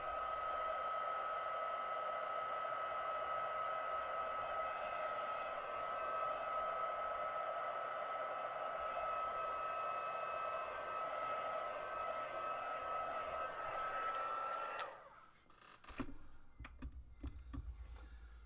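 A handheld dryer blows air over a craft project, a steady loud whooshing hum that runs continuously for about fifteen seconds and then cuts off, leaving brief quiet rustling and handling noises.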